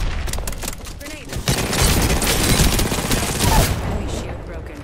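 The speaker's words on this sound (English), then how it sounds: "Stop shooting at me." Video game gunfire in a one-versus-three match, sustained rapid bursts of loud shots close by, with a voice talking over the shooting.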